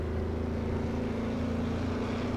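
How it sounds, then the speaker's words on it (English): A Ford Mustang engine in the Assetto Corsa racing game drones steadily as it spools up under acceleration, a loud, continuous low hum with steady tonal bands and no speech. "you can hear the engine spooling up as I'm doing that"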